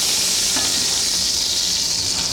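Venison sears in hot vegetable oil in a pot, giving a loud, steady sizzle and hiss close up, with faint crackles and no voices.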